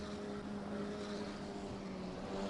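Steady engine roar of a nimble KTM race car lapping Brands Hatch, a constant droning whine heard from some distance without voices.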